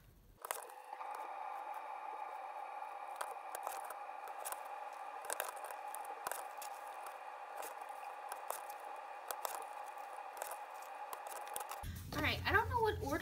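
Paper planner stickers being trimmed with a trimmer, giving a steady scraping, sliding texture for several seconds that ends in a short burst of louder handling noise.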